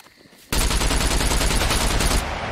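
Sustained burst of rapid automatic gunfire in the survival video game SCUM, loud and close, erupting suddenly after a quiet moment and running continuously for about two seconds before easing slightly.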